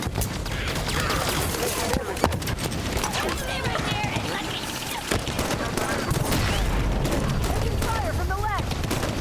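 Rapid bursts of turret gunfire rattle through a Halo firefight, dense and continuous over rumbling explosions, with shouted voices breaking in throughout.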